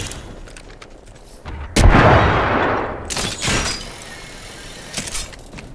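Apex Legends firefight with a frag grenade thrown, a loud sudden blast followed by a long rumbling decay, with scattered gunshots and game effects around it, no talking.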